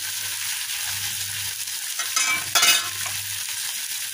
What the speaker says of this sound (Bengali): পেঁয়াজগুলো একটু বাদামি করে ভেজে নিয়েছি